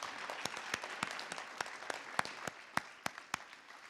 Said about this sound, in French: je vous propose de les applaudir chaleureusement